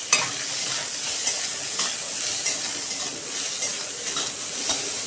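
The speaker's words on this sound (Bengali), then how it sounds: "আমি উচ্ছে আর আলুটাকে ভালো করে ভেজে নেব" Bitter gourd and potato pieces fry in a wok with a constant close sizzle, punctuated by periodic stirring scrapes and light clinks of a utensil against the pan, no voices.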